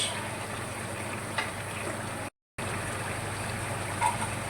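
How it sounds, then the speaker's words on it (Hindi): Tomatoes and masala being fried for aloo mutton shorba, giving a steady, soft sizzle that runs throughout with one brief dropout partway. "2 से 3 मिनट हो गए मुझे भूनते हुए"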